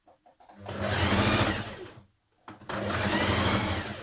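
Sewing machine stitching the hem of a top, two close, loud runs of rapid mechanical whirring separated by a short pause, with a few light clicks before it starts.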